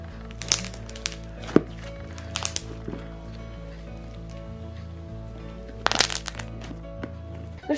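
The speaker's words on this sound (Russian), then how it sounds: "Пенопластовые шарики и фунтикс. Он очень круто хрустит и тянется." Close, crisp crunching and crackling in a few short bursts as foam-bead slime is squeezed, the beads popping, over a steady background hum.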